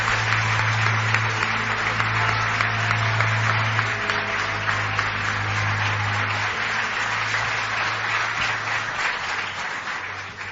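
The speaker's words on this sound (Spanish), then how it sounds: "Y pido un aplauso para Jesús," Steady, dense audience applause in a radio programme's live venue, even and continuous throughout, with a low hum beneath and no talking over it.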